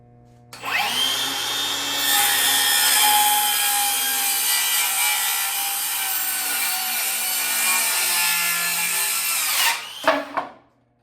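Circular saw ripping through a wood board in a woodworking shop, a loud continuous high-pitched whine held steady for about nine seconds after spin-up, then winding down with a brief clatter at the end.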